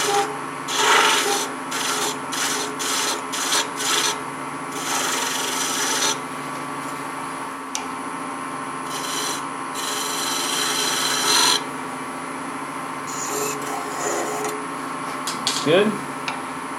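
Hand woodworking tool taking peeling cuts in wood in a box and drawer making shop, a series of close, short scraping and rasping strokes separated by pauses, with a voice talking at times.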